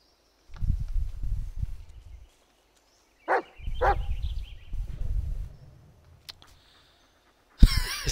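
A dog in the Blair Witch video game gives a few short, breathy bursts, likely barks and panting, close and moderately loud, separated by brief gaps, with a sharp noise at the very end.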